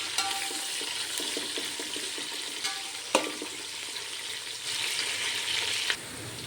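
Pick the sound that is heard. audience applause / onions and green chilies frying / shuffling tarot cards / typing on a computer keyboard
onions and green chilies frying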